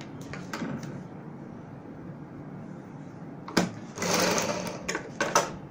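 A sewing machine stitches patchwork onto a kurti with the presser foot, a steady close whirring run that stops briefly and then returns in louder bursts with clicks and fabric handling.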